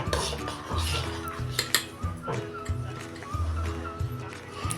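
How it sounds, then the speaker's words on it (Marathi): Spoon clinking against a bowl while fennel, dry ginger powder and a pinch of salt are mixed into wheat flour, with repeated close scraping and tapping strokes under faint background voices. "आता हे चांगलं एकसारखं आपण मिक्स करून घेऊया"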